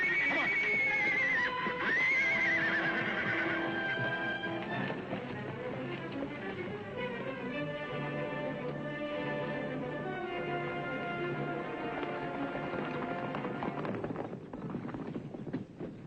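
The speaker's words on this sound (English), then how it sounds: "All right, Ed, unhook the horses." A horse whinnies loudly at the start, followed by a continuous jumble of hooves and movement, close and busy throughout.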